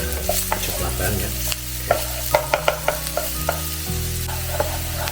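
Onions fry with a loud, close sizzle in a pan while a spatula scrapes and taps in an uneven rhythm of clacks, with no voices.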